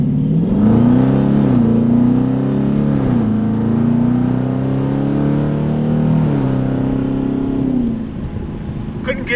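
A Ford Focus RS four-cylinder accelerating hard from a stop with its tires losing traction, the engine note climbing loudly through rising sweeps and a gear change before easing off near the end.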